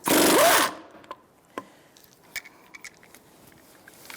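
A last wheel lug nut on a 2007-2012 Nissan Altima being removed, one short loud buzz of a power tool, followed by quieter scattered clicks and clanks of handling.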